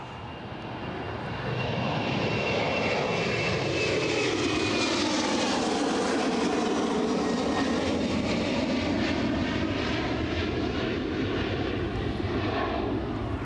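A fixed-wing airliner passes close over the runway at Newcastle International Airport, its engine roar swelling quickly and holding loud and steady for several seconds with a sweeping whine.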